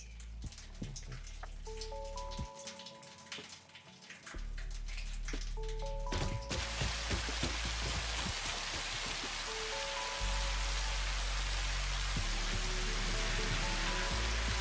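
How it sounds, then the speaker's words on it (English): Heavy rain downpour in the video game Satisfactory, a dense steady hiss of rainfall that swells louder partway through and continues, with game tones and clicks layered over it and no speech. "This is our first proper big downpour."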